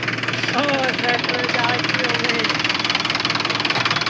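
A tractor engine pulling a disc harrow in a field chugs steadily nearby with a rhythmic, pulsing throb, while voices talk over the running motor.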